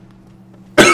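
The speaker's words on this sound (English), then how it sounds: "Stop coughing while playing!" A single sharp, loud cough bursts out near the end, breaking a quiet stretch of low steady hum during a PC session of Dark Souls.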